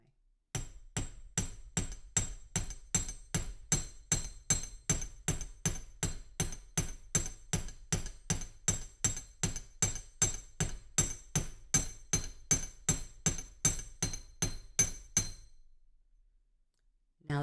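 Steady rapid series of about thirty light metal hammer taps on spiral wire earrings resting on a steel bench block, evenly spaced and close, ringing briefly before stopping.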